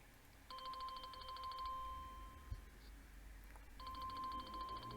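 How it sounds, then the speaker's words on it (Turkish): A Tawk.to live chat notification on a WordPress site plays as a quick run of electronic beeps, then repeats after a pause of a few seconds, quiet over a low background hum. "size sesli bir bildirim geldi"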